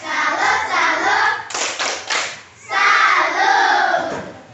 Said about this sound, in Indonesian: Ulang lagi sekali. Tepuk salut. Salut, salut. Salut, salut.